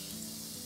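Minced garlic sizzles and fries in leftover oil from frying mushrooms, a steady, close, continuous crackle and hiss with no talk over it.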